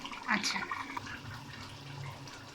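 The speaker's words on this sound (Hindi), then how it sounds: "हमने इसमें पानी डालना है जितना हमें शोरबा चाहिए" Water poured into a frying mutton paya curry to make the broth, a brief splashing pour near the start that trails off under a low simmering hiss.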